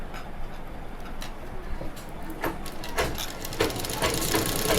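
A sewing machine runs a round stitch on a ready-made nighty in a tailoring class, giving a steady run of close, fast ticking clicks that grow slightly louder toward the end over a low hum.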